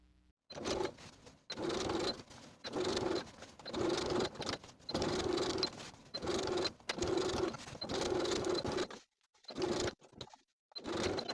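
A sewing machine stitches a dress facing seam in a run of steady mechanical bursts, each stopping briefly before starting again, close and fairly loud, with no talking.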